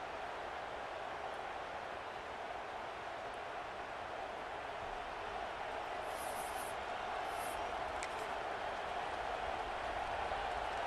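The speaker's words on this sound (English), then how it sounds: "This crowd ready to make its presence known." A steady, dense roar from a stadium crowd in the EA Sports College Football 26 video game, with Iowa on offense. It holds at an even level throughout with no clear peaks or pauses.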